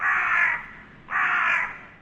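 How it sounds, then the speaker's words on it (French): Two loud, harsh crow caws in quick succession, each lasting about half a second, close and alone with nothing else beneath them. "le ciel était noir de corbeaux qui étaient venus pendant la nuit."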